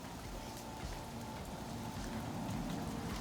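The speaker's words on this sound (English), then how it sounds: "So as you can see, it's raining." Steady rain falls outdoors where several Rottweilers wander about, a dense, continuous hiss of drops on surfaces filling the scene at moderate loudness with no talking.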